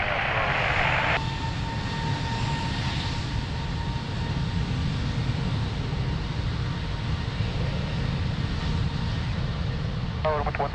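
Jet airliner on the runway at Lisbon Airport during takeoff: a steady, loud engine roar that holds through the whole stretch, with radio chatter briefly over it at the start.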